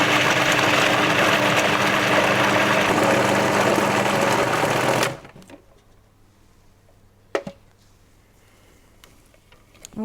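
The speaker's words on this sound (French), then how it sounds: "je vais verser la crème sur le chocolat et je vais mixer 2-3 petits tours directement avec le robot." A Magimix food processor blends cream poured over white chocolate into a ganache, giving a loud, steady motor whir for about five seconds before it stops abruptly, leaving near silence with one brief clunk afterward.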